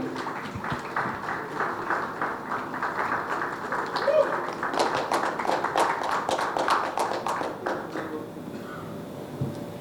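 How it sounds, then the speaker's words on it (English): Audience at a panel discussion claps during a felicitation, a dense patter of many hands building and holding through the middle before easing off, with a voice speaking underneath. "if you all will clap like this"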